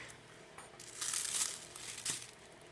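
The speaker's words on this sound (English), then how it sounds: "I'm going to use some plastic wrap to cut out a nice clean circle from here" Plastic wrap crinkles as it is handled over polymer clay, a soft rustling that swells into a brighter crackle midway, with a short sharper crinkle near the end, close and fairly quiet.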